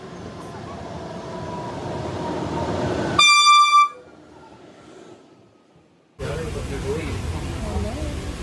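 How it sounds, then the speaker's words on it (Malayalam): Busy railway station platform in Bangalore, with a loud multi-tone horn blast sounding briefly mid-clip over a steady crowd and traffic din, followed by a quieter stretch before the broad ambient roar returns. "നമ്മൾ റെയിൽവേ സ്റ്റേഷനിലാണ് നിൽക്കുന്നത്"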